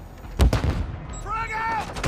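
A frag grenade thrown and detonating in Call of Duty Modern Warfare 2 multiplayer, one sharp near blast followed by dense clattering gunfire and a short rising electronic chirp.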